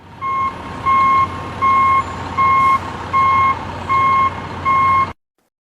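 An excavator's reversing alarm sounds seven evenly spaced two-tone beeps, loud and close over a low idling engine rumble, then cuts off abruptly.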